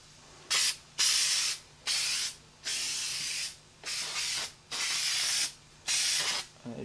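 Repeated hissing bursts of an aerosol spray adhesive can on a BMW motorcycle seat, about eight sprays of roughly half a second each, close up with short gaps between.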